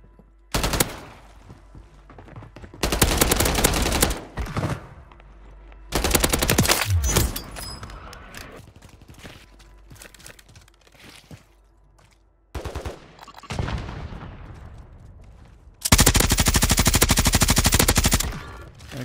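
Automatic gunfire in the Warzone 3 battle royale game comes in several loud, dense bursts of rapid shots, some several seconds long, separated by quieter gaps with scattered single shots.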